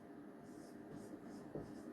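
A definition being written on a board during a quiet lesson, with soft, faint scratching strokes continuing steadily for a couple of seconds in a calm room.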